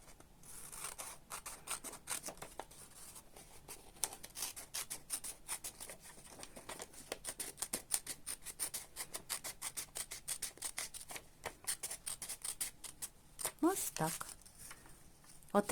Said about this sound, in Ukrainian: І цей наш аркуш паперу по цій лінії розрізаємо навпіл.